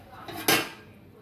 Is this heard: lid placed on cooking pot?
yes